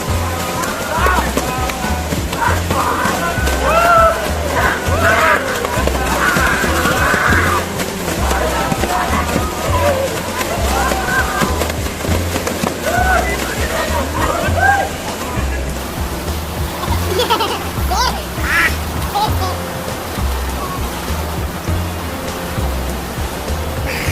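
People bathing and splashing in the Banganga river, a continuous loud wash of rushing water with scattered splashes and distant voices and chatter mixed in throughout.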